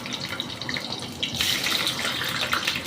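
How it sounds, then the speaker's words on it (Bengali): Hot oil crackles and spits in a kadai before cauliflower goes in to fry, a soft, steady sizzle that grows louder and busier partway through, with no voices. "তেল গরম হয়ে গেছে, চটপট করছে"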